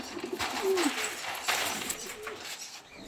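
A pair of Kalanka pigeons, a cock and a hen, give soft, close coos in short repeated bursts. Faint background noise sits under the calls and no one speaks.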